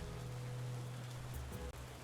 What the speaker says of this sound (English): just listening to the rain is good ambience to fall asleep to